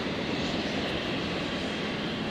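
Jetstar Airbus A320 departing runway 01 right at Brisbane, bound for Sydney: a distant, steady, faint engine roar with broadband jet noise throughout and no talking.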